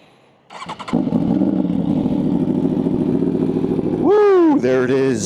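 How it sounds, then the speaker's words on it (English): An Aprilia Tuono V4 fitted with a nearly straight Leo Vince exhaust fires up from cold after a short cranking burst, settling into a loud, steady, rumbling idle before sharp revs climb and drop near the end. "But first, let's get that cold start,"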